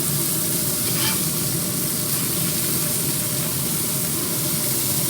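Steady, loud sizzling and crackling of bacon cheeseburgers frying in their own grease in a hot cast iron pan on a pellet grill, continuous throughout with no voices.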